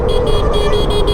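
A vehicle horn blares in short repeated honks on a road during a night ride on a Suzuki V-Strom adventure motorcycle, loud and close over the steady rumble of traffic.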